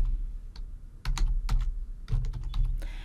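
A domain name is typed on a computer keyboard in short bursts of crisp, close key clicks with brief pauses between them.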